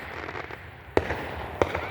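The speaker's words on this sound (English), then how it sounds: "We are doing fireworks." New Year fireworks go off nearby: two sharp, loud bangs about two-thirds of a second apart, each a sudden crack that quickly fades over a low background rumble.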